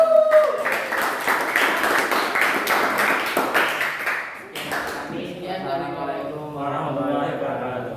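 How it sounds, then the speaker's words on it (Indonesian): Dense, steady clapping from a classroom audience at a university teacher-training session fills the first four seconds, then fades as a voice begins talking over the tail end. "Silakan berikan tepuk tangan untuk"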